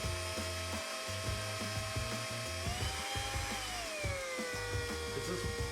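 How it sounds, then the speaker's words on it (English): Small drill boring pilot holes into brittle plastic hinges of a Technics SL-B2 turntable dust cover, a steady whirring whine with shifting pitch and a low rhythmic motor pulse, close up with no talk. "I'm going to drill a pilot hole in each one of these."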